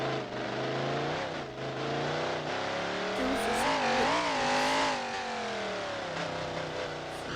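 A high-end Chevrolet car's engine revving up, a rising and falling tonal whine that swells in the middle and then settles, close and fairly loud, with no clear talk over it.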